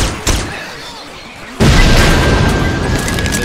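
A thrown explosive detonates in the Left 4 Dead 2 video game with a sudden loud boom partway through, following quieter gunfire and game noise, and the blast's roar lingers afterward.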